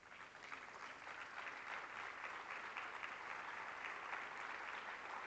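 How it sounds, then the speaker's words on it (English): A conference audience at an Africa convening claps steadily for about five seconds, a dense, even patter of many hands heard at a soft, distant level. "Thank you for clapping for them already."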